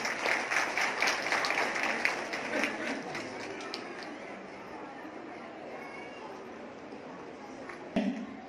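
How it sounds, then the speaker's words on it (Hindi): Audience applause at a women's conference welcome ceremony in a hall, a steady burst of clapping that fades gradually, with a brief voice near the end. "ताली बजा सकते हैं"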